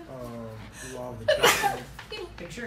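One sharp sneeze bursts out in the middle of a person speaking, loud and close, and the talking carries on afterward.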